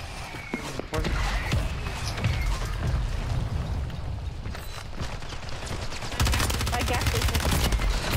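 Dense automatic gunfire in a Call of Duty: Warzone firefight, sustained bursts and rapid shots throughout, loud and close, with a heavier barrage kicking in near the end; players talk over it.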